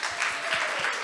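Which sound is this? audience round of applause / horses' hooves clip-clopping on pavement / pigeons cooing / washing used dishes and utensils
audience round of applause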